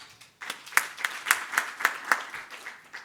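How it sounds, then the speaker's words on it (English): A small panel-discussion audience claps for a newly introduced panelist, a brief scattering of distinct hand claps with a few sharp ones, fairly sparse and close, lasting about three seconds. "Can we give a round of applause, please?"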